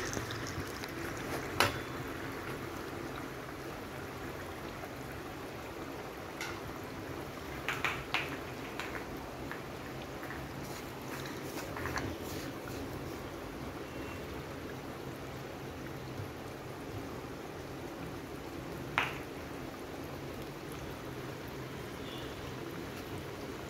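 Potato and flattened-rice cutlets fry in hot oil with a soft, steady bubbling hiss, faint and fairly distant, broken by a few brief clicks and clatters; no one speaks.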